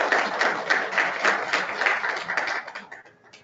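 Audience clapping at an annual member network meeting and iftar dinner, a dense, steady patter of many hands that thins out toward the end.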